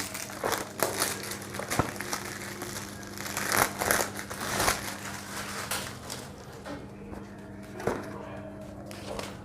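Plastic pasta packaging crinkles and crackles as it is torn open by hand, with irregular rustling bursts close to the microphone in a quiet kitchen.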